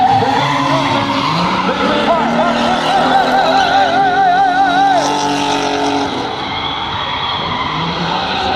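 Loud tire squeal from a BMW with a 5-litre V12 engine skidding and drifting, wavering screeches over a roaring engine, fading slightly toward the end.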